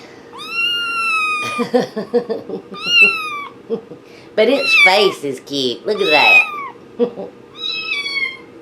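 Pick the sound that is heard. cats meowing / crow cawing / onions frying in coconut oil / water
cats meowing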